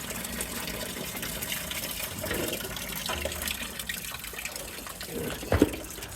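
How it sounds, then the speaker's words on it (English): Water pours and drains from a Rolls-Royce Silver Shadow in a steady, broad gushing splash, close and continuous, with a few sharp knocks near the end. "That drains very quickly, but drains a lot."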